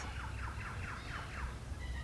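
Native Australian birds call outdoors, including swans, cockatoos and crows, giving a faint, rapid series of chirping calls over steady low background rumble, with no talk.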